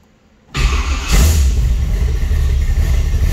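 A 1982 Chevrolet Camaro Z28 engine fires up after a moment of quiet, settling straight into a loud, rumbling idle close by.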